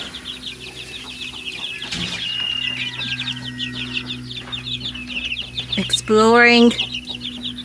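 Young meat bird chicks peep in fast, high chirps inside their new pen over a steady low hum, and one louder call rises near the end; a person speaks briefly.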